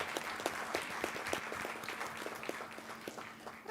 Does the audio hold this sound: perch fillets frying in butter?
no